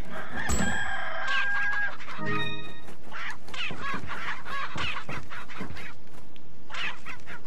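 Chickens in Resident Evil 4 Remastered squawk and cluck loudly and close, with shrill drawn-out cries early on, then frantic overlapping clucks and flapping mixed with other busy game noise throughout.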